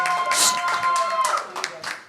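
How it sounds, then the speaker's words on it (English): A comedy game show audience group claps vigorously for itself, sharp clustered claps near and loud, mixed with voices and a brief cheer. "Despite the Tumblr-inas' vigorous applause for themselves"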